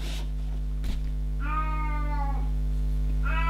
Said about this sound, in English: Don't get a cat that meows all the time.